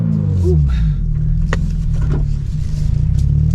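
A Toyota GR86 compact sports car rumbles at low speed through a three-point turn, its engine a steady close drone with a brief rise in revs and light interior noises.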